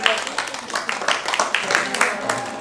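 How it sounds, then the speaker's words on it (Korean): Church congregation clapping in a scattered patter of applause during a gift presentation for children, moderately close, mixed with light talk and room noise. "박수 주시기 바랍니다."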